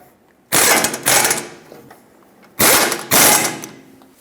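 A ratchet snugs the caliper bracket bolts on a Ford E-350 front brake in two pairs of close, loud clicking bursts with short pauses between them. No voices are heard.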